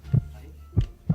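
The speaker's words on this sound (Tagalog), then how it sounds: "heartbeat O kaya o tibok ng puso." Three distinct low heartbeat thumps, close and soft, spaced unevenly over about a second against a faint hum.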